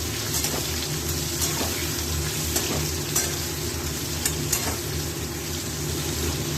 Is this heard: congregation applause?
no